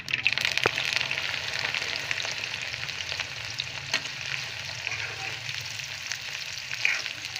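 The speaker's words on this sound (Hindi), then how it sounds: "ये देखिए, हमारा ऑयल जो है वो अच्छे से गर्म हो चुका है। अब इसमें हम ये भिंडी डाल देंगे।" Okra (bhindi) dropped into well-heated oil for a bhindi and chicken masala fries with a steady, hissing sizzle, broken by a few sharp clicks of stirring.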